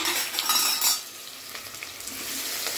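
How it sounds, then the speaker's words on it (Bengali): Onions frying in a pan until deep red-brown for a chicken achar biryani, a steady close sizzle with scraping stirs of a utensil against the pan, busier in the first second and then settling into an even hiss. "এবার পেঁয়াজটাকে খুব করে লাল করবো"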